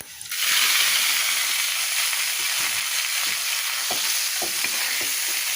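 Boiled spinach fries in oil with onion and garlic, a loud steady sizzle and hiss starting abruptly as the greens hit the pan, with faint stirring scrapes underneath.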